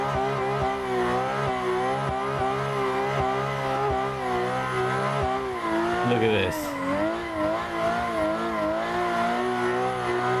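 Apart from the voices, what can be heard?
drift car engine and tire squeal in Assetto Corsa video game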